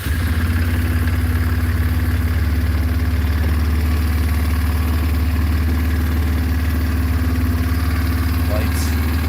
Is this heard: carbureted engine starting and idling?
yes